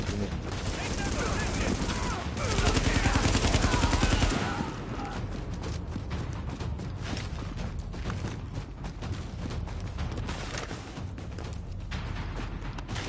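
Sustained gunfire from a PS4 shooter game, a dense, steady rattle of bursts that swells louder for a couple of seconds near the start and then continues under game sounds and talking voices.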